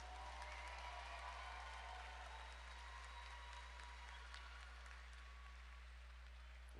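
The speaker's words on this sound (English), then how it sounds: "a round of applause for two great fighters making their fight debuts." A cage-fight crowd at a CW 71 MMA event applauds two debuting fighters, steady distant clapping under a strong low electrical hum, fairly faint throughout.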